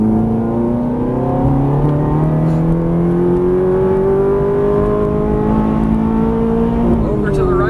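Ferrari 430 engine revving on a race track as the throttle is squeezed, a loud sustained drone rising steadily in pitch before dropping off near the end, with an instructor's voice talking over it.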